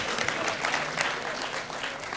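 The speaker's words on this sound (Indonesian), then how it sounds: "Tepuk tangan dulu untuk kawan-kawan kita." Steady audience applause fills the whole stretch, a dense continuous patter of many hands clapping at a school gathering in Indonesia, even in level throughout.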